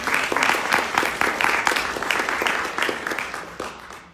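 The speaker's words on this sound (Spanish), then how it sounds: "Les pediría por favor un aplauso para Cecilia." An audience applauds Cecilia Palmeiro at a panel discussion, dense close clapping that holds steady and then begins to thin out near the end.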